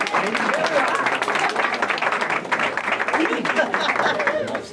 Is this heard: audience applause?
yes